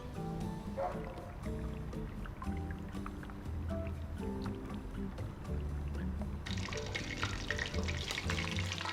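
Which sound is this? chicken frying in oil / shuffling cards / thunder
chicken frying in oil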